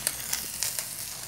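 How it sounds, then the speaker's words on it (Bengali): Small fish fry in hot oil in a pan with a soft, steady sizzle and faint crackling pops, quiet and close. "তেল আমাদের গরম হয়ে গেছে, এবার মাছটা ভালো করে ভেজে নেব"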